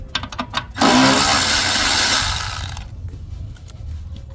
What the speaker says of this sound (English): for this one I used the 10mm ratcheting wrench